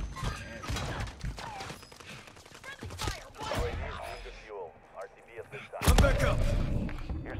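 Video game gunfire, scattered sharp shots and a heavier blast near the end, mixed under continuous excited talk from players.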